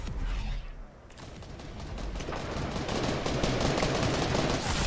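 Rapid gunfire rattles through a Fortnite match in a dense, continuous burst of shots, loud and close, with a brief quieter gap early on.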